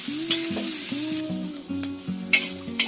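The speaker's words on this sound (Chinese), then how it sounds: "而家你咧就炒咗啲雪菜。" Pickled mustard greens sizzle in a wok as they are stir-fried, steady frying hiss under repeated rhythmic scraping strokes of a utensil, close and moderately loud.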